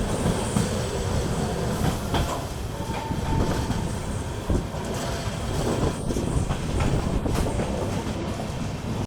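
Mewar Express passenger train rolling along near Udaipur, a steady close rumble with faint clickety-clack of wheels on rail joints running continuously throughout.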